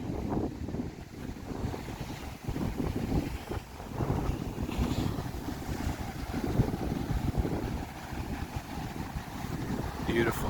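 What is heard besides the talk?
strong wind at Laie Point coast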